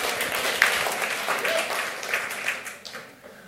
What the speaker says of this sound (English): It's okay to clap. Go ahead. Clap.